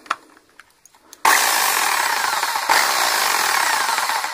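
A few light clicks, then a Master Craft MPMB 750E rotary hammer in hammer-only mode, without rotation, kicks in with loud, rapid, continuous hammering that runs steadily to the end.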